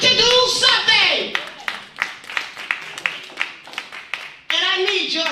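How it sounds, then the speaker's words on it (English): Audience clapping at an evening gathering, scattered individual claps in a loose rhythm between stretches of someone speaking, with his voice returning at the end. "You can clap, we got to do something."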